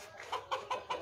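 A desi rooster held in hand gives four short, evenly spaced clucks, fairly quiet and close, with no speech over them.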